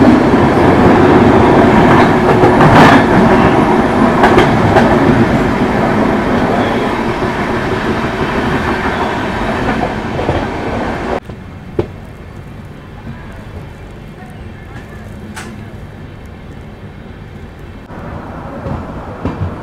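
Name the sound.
Udyan Express train running, interior of 3A coach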